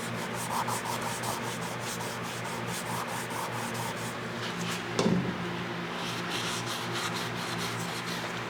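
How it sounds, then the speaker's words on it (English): Steady rubbing and scrubbing of old wood with a Scotch-Brite pad soaked in denatured alcohol, working under a Victorian house; a continuous close abrasive swishing with one brief louder scrape midway, no voices. "I just want to super clean it with denatured alcohol and a Scotch-Brite pad."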